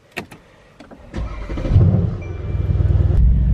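A luxury sports car engine starts up close by. A few sharp clicks come first, then the starter cranks and the engine catches into a loud, rumbling idle that swells and holds steady.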